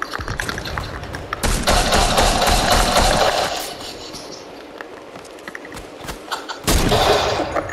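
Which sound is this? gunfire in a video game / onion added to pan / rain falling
gunfire in a video game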